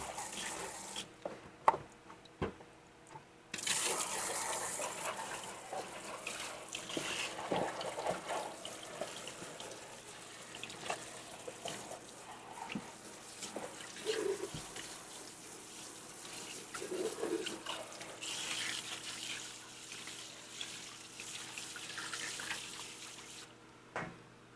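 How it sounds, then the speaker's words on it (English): Water from a garden hose rinses an air compressor, a steady splashing hiss that runs for most of the stretch, with brief quieter gaps near the start and end. "I'm going to get my hose here. I'm learning that I can rinse because the thing has an automatic drain"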